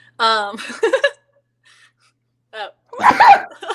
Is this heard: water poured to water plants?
no